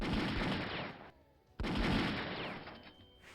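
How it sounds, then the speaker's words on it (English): Artillery bombards Vienna in the European War 4 strategy game, with two dense, loud barrages of overlapping booms and blasts separated by a brief lull. "we have some artillery hanging about, so we can lay it thick and heavy onto"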